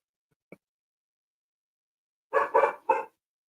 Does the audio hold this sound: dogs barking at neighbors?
yes